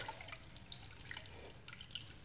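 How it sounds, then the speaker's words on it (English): Tamarind water strained through a colander for Kerala avial, faint trickling and dripping of liquid, soft and close in a quiet kitchen. "Now I am using a colander to strain this water"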